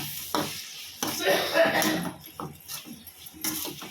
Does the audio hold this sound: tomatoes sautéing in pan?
yes